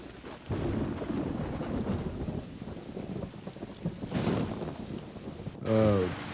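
Steady rain and rolling thunder on a night on the road, the downpour hissing throughout with a loud thunderclap near the end and no talk.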